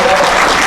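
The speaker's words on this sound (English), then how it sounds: "let's give him a round of applause" Applause from an audience at a Juneteenth celebration in Paterson, New Jersey, a brief steady wash of clapping heard at close range.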